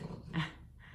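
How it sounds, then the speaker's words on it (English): A dog gives a short, low growl that lasts under a second, close by and fairly quiet, with a brief throaty swell in the middle. "Oh, that's my dog, sorry."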